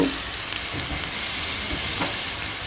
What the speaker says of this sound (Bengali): মশলাটাকে হালকা কষিয়ে নেওয়া হচ্ছে।